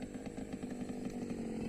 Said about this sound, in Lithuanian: Čia nais va bičias skrieja su motociklu.